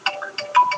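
Short mobile phone alert tone signalling a fully charged battery, four bright chiming notes in quick succession, close and clear with no talking.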